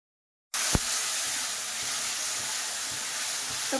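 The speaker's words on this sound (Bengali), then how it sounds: "তো প্রথমে তরকারিটার গ্রেভি বানাচ্ছে ও, মশলাটা একদম কষিয়ে নিচ্ছে ভালো মতো" Masala spices sizzling in hot oil while prawn curry gravy is cooked, a steady close hiss that starts abruptly and carries on evenly, with a sharp clink from a utensil near the start and faint stirring scrapes.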